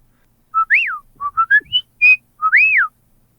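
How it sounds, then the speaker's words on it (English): A person whistles a short, complicated tune of rising and falling swooping notes and quick chirps, close and clear, with no talking over it. "It should be a pretty complicated whistle if you wanted it to live amongst certain members of a"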